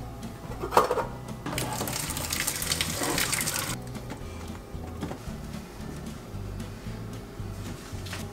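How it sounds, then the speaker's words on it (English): Boiled potato water pouring out of a cooking pot into a sink, a steady broadband gush with a louder surge in the middle, then a quieter trickle. "we're gonna empty the water from the pot"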